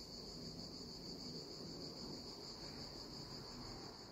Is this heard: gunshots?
no